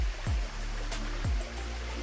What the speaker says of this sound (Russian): Ну вот мы нашли еще один водопадик